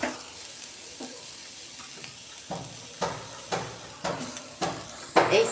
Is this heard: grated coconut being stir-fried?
yes